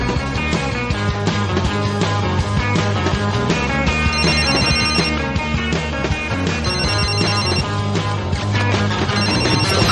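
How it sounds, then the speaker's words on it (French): A mobile phone rings with a loud, musical ringtone that carries on steadily and without pause, with no talking over it. "Se balader avec un téléphone et répondre à chaque fois qu'il sonne"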